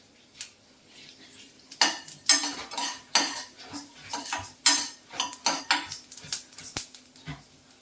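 Cumin seeds fry in a pan amid frequent clinks and scrapes of a metal spoon against the cookware, with a faint sizzle beneath the irregular clatter.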